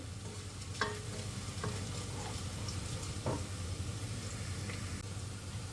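Vegetables sizzle steadily in a pot as carrots are added and sautéed for a spicy winter soup, with a few clear stirring scrapes and clinks over the constant frying hiss, fairly faint and without voices.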